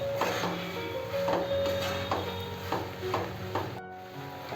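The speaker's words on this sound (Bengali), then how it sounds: "চিংড়ি মাছটা মিশিয়ে দিলাম, দিয়ে একটু ভালোভাবে নাড়তে হবে।" A spoon stirs prawns through a thick papaya curry in a pan, making repeated scraping strokes at a steady rhythm over a soft, constant sizzle, heard close with no talking.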